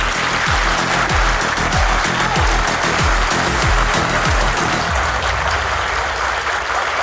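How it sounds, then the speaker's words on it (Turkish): An audience at a Republican People's Party district meeting in Çatalca applauds loudly and continuously, with rhythmic low thumps underneath that fade after a few seconds. "alkışlarıyla davet ediyoruz."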